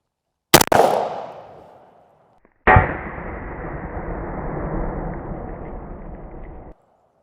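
A rifle shot strikes a 15-year-old steel Level II body armor plate: a sharp, loud crack with a brief ringing clang, a pause, then a second loud impact followed by a sustained metallic rumbling ring that fades.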